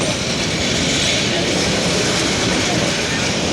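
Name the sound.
local train pulling away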